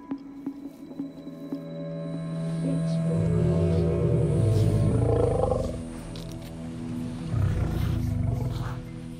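Lions roar in the African bush, deep rumbling calls swelling loud and close, then a second roar after a short pause, with other wildlife sounds in the background.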